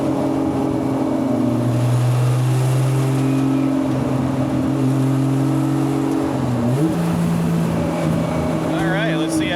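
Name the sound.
1978 Datsun 280Z engine revving at partial throttle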